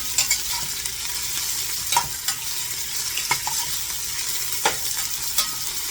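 Onions sauté in a pan for pork sinigang, a low, continuous sizzle broken by sharp clicks and scrapes of a utensil stirring against the pan at irregular intervals.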